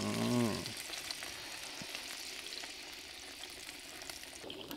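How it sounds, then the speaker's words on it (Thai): Two prepared pork pieces deep frying in hot oil, a steady close sizzle and bubbling that runs throughout, briefly louder at the start, with no talk. "ผมก็จะเอาลงไปทอดนะครับมี2ชิ้นที่เราทําไว้นะครับ"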